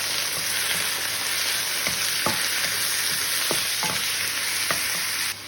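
Boneless chicken sizzles steadily in a pan with garlic and onion, a constant frying hiss broken by several sharp utensil scrapes and taps from stirring, close and clear with no talk.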